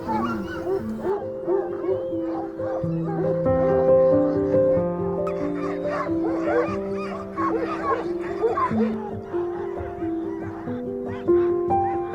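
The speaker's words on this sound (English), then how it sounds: "Yay, sled dog!" Sled dogs, German Shorthaired Pointer mixes with some Alaskan and Greyhound, at a winter festival parade, yipping, whining and barking in a busy overlapping chorus, with other tonal sounds mixed in.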